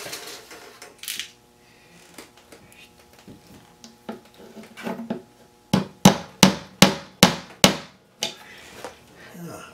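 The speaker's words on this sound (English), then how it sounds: "Alright, we'll use some little bitty nails." Small nails are hammered into a wooden radio cabinet during a Zenith farm radio restoration: scattered light taps first, then a run of about six sharp, evenly spaced hammer blows close up.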